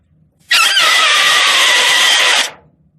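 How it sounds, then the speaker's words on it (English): Blowing into loose pages of a music book produces one loud, piercing shriek lasting about two seconds, starting abruptly and cutting off, heard alone in a quiet room. "I'm going to try blowing into the pages by leaving the pages loose"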